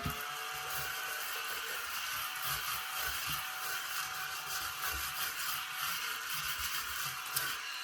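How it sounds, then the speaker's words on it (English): A vacuum cleaner runs steadily indoors, a continuous whirring motor drone with a faint high whine, unbroken and moderately loud throughout. "I'm going to go ahead and vacuum this up."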